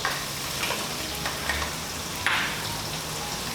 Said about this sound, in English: we're going to add that to the hot wok, and then we're going to add in our shallots